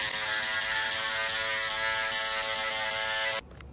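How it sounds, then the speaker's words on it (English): Electric scissors run steadily along the edges of a tufted rug, giving a loud, close motorized buzz with a whirring mechanical texture that cuts off abruptly near the end. "I just use the electric scissor, and I just go along the sides"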